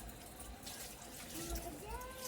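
Water splashes and trickles as hilsa fish are washed by hand, faint and soft, under a speaking voice.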